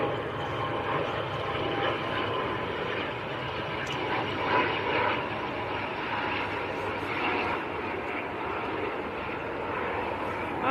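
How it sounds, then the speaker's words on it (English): Aer Lingus ATR 72 turboprop at Manchester Airport, a steady broad engine drone heard from a distance, holding level throughout with faint wind noise. "Here's Aer Lingus, ATR 72."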